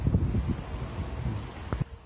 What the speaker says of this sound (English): It's too freaking windy, they said.